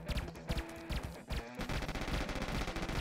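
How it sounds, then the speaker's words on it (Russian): Machine gun fire from the Puppet Bluster VR video game: rapid bursts of automatic shots and a dense fusillade, loud and near, with a short lull before the firing resumes more densely. "пулемет!"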